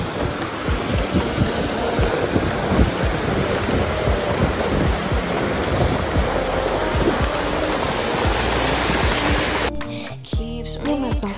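Strong wind buffets the microphone beside a lake next to mountains at Hallstatt, Austria, a loud, steady roar with gusty rumble and water-like wash throughout, cutting off abruptly near the end.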